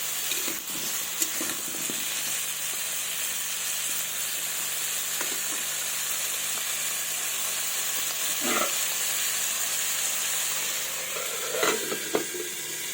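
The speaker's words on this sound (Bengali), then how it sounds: "এবার এটাকে আমি ঢাকা দিয়ে দিয়ে ভেজে নেব, যেন আমার আলু পটলগুলো সেদ্ধ হয়ে যায়।" Potatoes and pointed gourd fry in a covered pan, making a continuous moderate sizzle and hiss with occasional faint knocks and scrapes, heard alone without voices.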